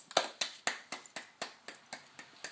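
A child claps hands about ten times in a steady, slightly uneven rhythm, each clap sharp and close, with no talking over them.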